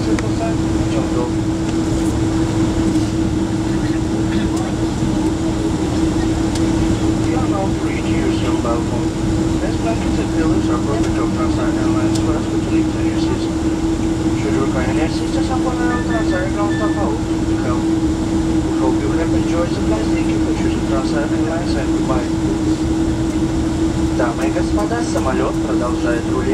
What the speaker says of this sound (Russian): Самолет продолжает руление.